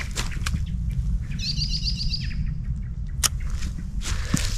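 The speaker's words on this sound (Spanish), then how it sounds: "escuchar los pajaritos, muy bonito" Birds chirp in a quick trill of high tweets over a steady low rumble of wind or outdoor ambience, with a few scattered clicks.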